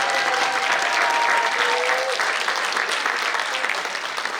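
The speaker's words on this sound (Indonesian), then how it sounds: "Tepuk tangan sekali lagi dong buat mereka." An audience applauds at an anniversary public-speaking event, a loud, dense wash of clapping that holds steady and tapers slightly toward the end, with faint voices underneath.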